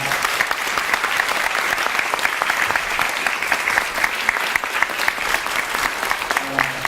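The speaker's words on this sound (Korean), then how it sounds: "큰 박수 한번 부탁드리겠습니다." Dense audience clapping at a film talk welcomes a guest speaker, a continuous crowd of hands beating steadily and evenly for about seven seconds with no pause.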